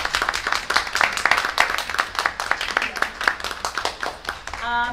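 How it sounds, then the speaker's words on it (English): Board of Education meeting attendees clapping for teachers, a moderate, uneven round of hand claps spread across the room, fading slightly toward the end as a tone sounds. "So if we could just give our teachers one more round of applause."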